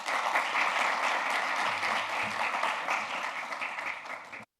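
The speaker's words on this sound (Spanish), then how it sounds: "acompáñenme en darle la bienvenida con un aplauso a Anaí" Audience applause welcomes a speaker named Anaí at a talk on sustainability and sociotechnical transitions, a dense, steady clapping that fills the room for about four seconds, then cuts off abruptly.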